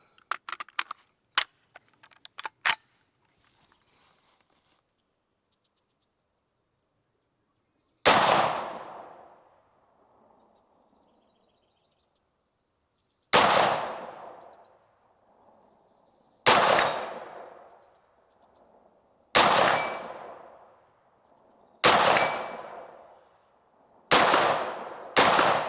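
Kel Tec SU16 rifle fired outdoors: a few quick shots at the start, then six loud, sharp cracks spaced a few seconds apart, each with a brief ringing decay and no talking between.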